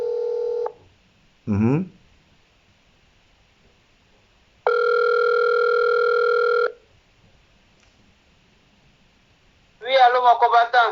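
Telephone call being placed: a steady tone, a brief dial burst, then a long ringback tone, before a voice answers at the end.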